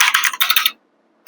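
Quick, crisp clacking of keys on a computer keyboard, a burst of around ten keystrokes, then a short silence and one more key press, close and clear with no talking.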